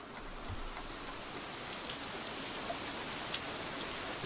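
Steady rain falls in the Katawa Shoujo visual novel, a continuous even hiss of drops on surfaces with no talk over it.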